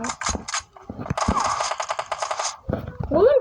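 Rapid bursts of automatic gunfire from PUBG Mobile, loud and dense through the middle of the clip, with a voice talking before and after the shooting.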